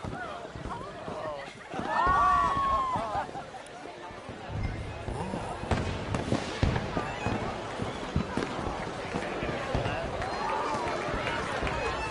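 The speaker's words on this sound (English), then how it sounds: "Let me enjoy the fireworks." Fireworks at a celebration in the video game Red Dead Redemption 2, bursting and crackling in the distance beneath crowd murmur and ambient noise, with a whistling rise early on and scattered pops throughout.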